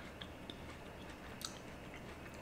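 Someone chews crunchy, juicy Honey Kiss melon, giving faint close crunches and a few soft bites over a quiet background hiss.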